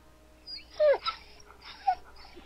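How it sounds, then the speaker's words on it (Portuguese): A dog whimpers and whines in the survival horror game Darkwood, a few short plaintive cries with brief pauses, close and fairly clear over a quiet background. "Misericórdia, um cachorro aqui."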